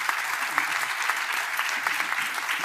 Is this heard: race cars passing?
no